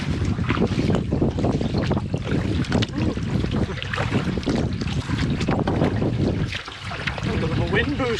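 Steady wind buffeting the microphone while paddling a solo canoe on a lake in Algonquin Park, a constant loud rushing roar.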